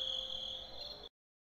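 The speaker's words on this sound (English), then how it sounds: "Got a bunch of crickets in the room." Crickets chirp in a steady, continuous high trill for about a second, alone with no talk, then stop abruptly into silence.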